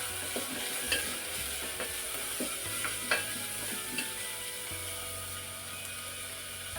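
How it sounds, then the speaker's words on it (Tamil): Two large onions sauté in oil in a pan for a chapati kurma, giving a faint, steady sizzle with occasional soft stirring clicks and scrapes. "அதனால ஒரு 2 பெரிய வெங்காயம் எடுத்துருக்கேன். எண்ணெயிலேயே இது நல்லா வதங்கட்டும்."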